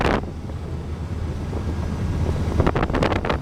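A 2006 Tracker Marine Tahoe Q4 boat cruises at 3,000 RPM, about 21 knots, its steady engine drone buried under heavy wind buffeting and rushing water, with splashy slaps near the end.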